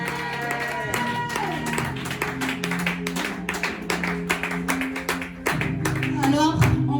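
A church congregation claps and acclaims the Lord during a French-language service, with dense rhythmic applause, cheering voices and music running underneath throughout.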